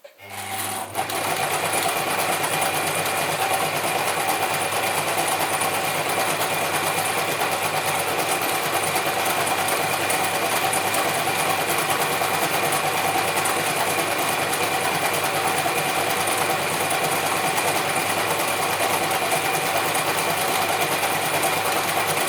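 A Gritzner 1002 or Pfaff 307 sewing machine runs steadily at speed, a continuous, loud mechanical whir and rapid needle clatter that holds unbroken for the whole stretch with no talking.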